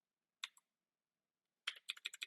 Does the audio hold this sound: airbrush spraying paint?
no